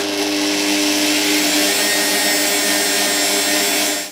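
Gelatine is stirred into the cream mixture for a children's penguin cake, producing a loud, continuous mechanical whirring drone that holds steady for several seconds before cutting off.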